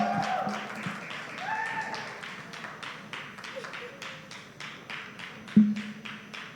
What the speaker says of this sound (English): I see the round of applause is very lengthy.